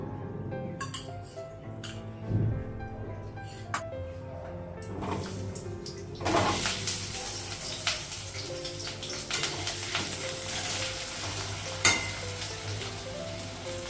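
Goat meat and cut potatoes hit hot oil in a pan and break into a loud, continuous sizzle that fills the second half, following scattered clatter and light stirring nearby.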